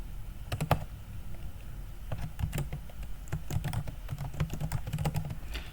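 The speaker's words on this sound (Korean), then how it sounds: "그대로 타이핑을 해줍니다." Fast, irregular keystrokes clatter on a computer keyboard during spreadsheet data entry, close and continuous with bursts of rapid typing and short pauses, and no voices.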